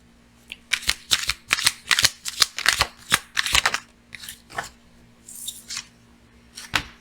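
Tarot cards being shuffled by hand up close, a rapid series of crisp riffling bursts in quick succession, then a few slower snaps and slides, with no talking.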